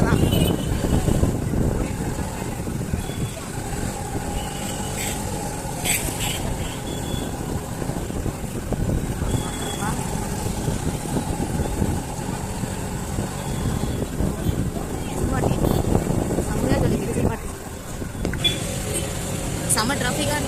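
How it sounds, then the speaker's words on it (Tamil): Busy street traffic in a town during Deepavali shopping, with a steady rumble of passing vehicles and engines that swells and fades, and people talking throughout. "செம்ம டிராஃபிக்காக இருக்குது."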